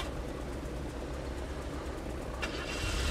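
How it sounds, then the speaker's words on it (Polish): A car engine idles steadily at a petrol station in Gas Station Simulator, a low continuous rumble held close throughout, with a brighter hiss rising near the end. "Pan wyłączy silnik już."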